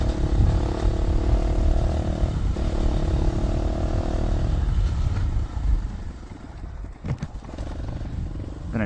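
A dirt bike ridden along a trail, its engine droning steadily and loud up close, with a rough rumble and clattering over the ride and wind buffeting throughout.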